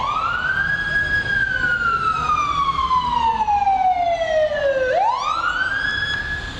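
An emergency vehicle siren wails loudly, one long slow descending sweep that swoops back up sharply, then falls again, sustained over road noise with no talk.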